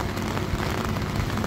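Heavy rain falling and growing stronger in windy weather, a dense, steady hiss of drops on surfaces, loud and close with no speech.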